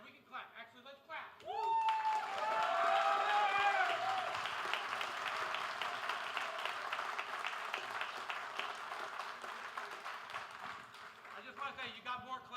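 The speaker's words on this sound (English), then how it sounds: "Actually, let's clap." Audience at a live security meetup breaks into applause after a talk, a steady patter of clapping that swells then fades, with voices murmuring around it.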